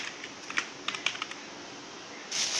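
A few scattered clicks of typing on a computer keyboard, faint and close, come in a small irregular cluster before a brief hiss at the end.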